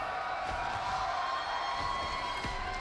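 A live esports crowd at the SMITE World Championship finals cheering for the Warriors, a dense steady roar of distant voices and whoops filling the whole short stretch at moderate level.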